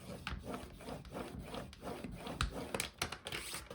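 Cardstock being scored with a scoring tool to make a slimline card base, heard as close, repeated scraping and rubbing strokes with a few sharper clicks toward the end.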